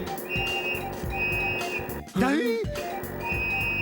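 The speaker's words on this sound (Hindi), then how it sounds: "ये क्या सीटी की आवाज?" A sharp, wavering whistle blows briefly, rising and bending in pitch, cutting through steady background noise and engine drone.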